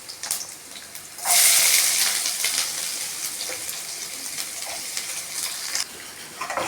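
Sliced onions, with fenugreek and garlic, sauté in oil for a brinjal curry: a close, bright sizzle surges in after a quieter start and carries on with stirring scrapes.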